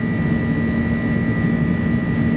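Twin jet engines of an iniBuilds A300 airliner at takeoff power in a flight simulator, a loud, steady roar with a sustained whine held evenly throughout and no pauses.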